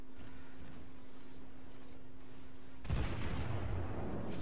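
A single heavy salvo from the Kongou battleship's main guns in World of Warships bursts out loud and close near the end, after a stretch of low steady hum.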